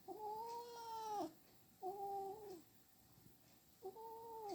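A cat gives three drawn-out meows, the first longest, with quiet pauses between them.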